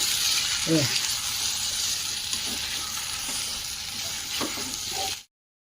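Rice flour laddu mixture with dry fruits being stirred by hand in ghee: a steady soft sizzle with scraping strokes throughout, close and moderately quiet, cutting off near the end.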